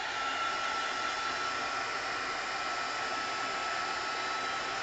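A heat tool blowing hot air to dry acrylic paint on a mixed media piece with black gesso, a constant close whooshing fan roar at even loudness with no pauses and no voices.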